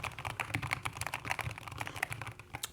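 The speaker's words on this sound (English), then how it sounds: "You can hear the keys." Keys clatter in quick, uneven bursts on a Keychron K2 HE keyboard, a steady run of close, crisp clicks with no talking.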